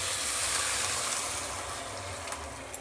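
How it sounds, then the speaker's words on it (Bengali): Water is poured into a pan of spiced potatoes and cauliflower, giving a steady broadband hiss and splash that carries through without a break and eases off slightly toward the end, with no talking. "এবার জল দিয়ে দিচ্ছি।"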